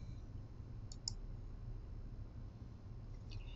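Two crisp computer mouse clicks close together, then a fainter click pair about two seconds later, over a quiet steady room hum.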